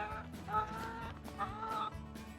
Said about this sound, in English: See if our chickens will eat some.